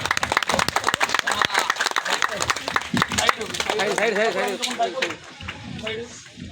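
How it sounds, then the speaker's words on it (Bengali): Audience clapping at a village Saraswati Puja cultural function: a dense burst of close hand claps for about three seconds, thinning out as a voice starts speaking over the fading applause. "জোরে হাততালি।"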